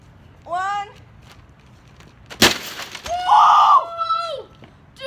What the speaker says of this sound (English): Printer gets destroyed.